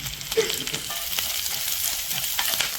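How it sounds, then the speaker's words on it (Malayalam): Sliced small shallots frying in hot oil with mustard seeds give a steady, close sizzle, with scattered crackles and stirring clicks throughout and no talking. "അരിഞ്ഞു വെച്ചിരിക്കുന്ന ആറ് ചെറിയുള്ളി പട്ടത്തിൽ അരിഞ്ഞു വെച്ചിരിക്കുന്നതാണ് അതൊന്ന് ഇട്ട് കൊടുക്കാം"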